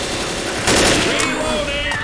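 Gunfire in the video game Left 4 Dead, a steady burst of shots that thickens partway through, loud and close, with game voice callouts layered over it.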